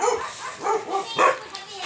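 Several barks from a dog, loud and close, coming in an uneven series of bursts with a little background noise.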